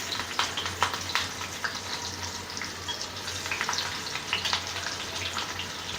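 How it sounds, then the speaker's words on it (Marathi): Green chillies fry in hot oil for a spiced flattened-rice snack mix. A moderate, even sizzle runs with rapid small crackles and pops throughout, and no voices are heard. "मिरची तळून घेते"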